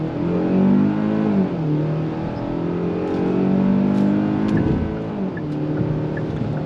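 A 2025 Hyundai Tucson Limited with a naturally aspirated four-cylinder engine and eight-speed automatic accelerates on throttle, its slightly buzzy engine note climbing and dropping through several upshifts, steady and prominent from inside the cabin, with no talking.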